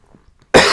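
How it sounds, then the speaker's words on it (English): A person gives a single sudden, harsh cough near the microphone after a moment of near silence. "I'm sorry, I'm coughing."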